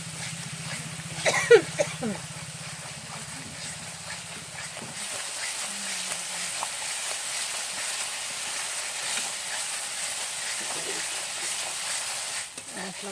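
Spice paste fries in a pan for a Bengali tilapia and cauliflower curry as a splash of water goes in, giving a burst of loud hissing and crackling that settles into a steady, softer sizzle.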